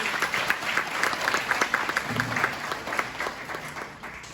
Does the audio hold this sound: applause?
yes